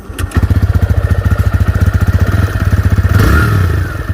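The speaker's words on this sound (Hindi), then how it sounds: "इसके इंजन में जो टाइमिंग चेन से रिलेटेड कुछ इशू है, वो किटकिट की आवाज़ आती है।" A TVS Raider motorcycle engine with a timing chain fault idles close by, making a loud, rapid, evenly pulsing tick and clatter that swells briefly as it revs near the end.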